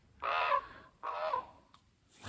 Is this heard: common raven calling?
yes